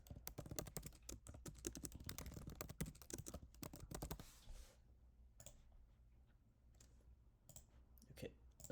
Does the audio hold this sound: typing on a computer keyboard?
yes